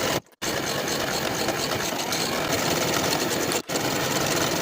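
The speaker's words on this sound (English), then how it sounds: "Now I'll sew both of the inseams and both of the side seams with a 1/4 inch seam allowance from top to bottom." A sewing machine runs loud and close, sewing the inseams and side seams of leggings with a quarter-inch seam allowance. Its dense, steady motor drone stops briefly near the start and again near the end, with no talking over it.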